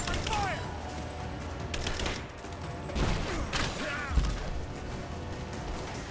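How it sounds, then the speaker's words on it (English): Gunfire in a Rise of the Tomb Raider game battle, with bursts and shots rattling over a dense mix of game noise and talk. A louder crack stands out near the end. "Give me suppressing fire now."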